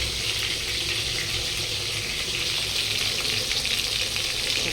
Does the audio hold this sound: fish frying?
yes